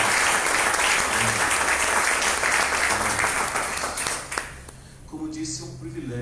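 A church congregation applauds loudly during a worship service, with dense clapping filling most of the moment before tapering off into quieter background sound and faint voices.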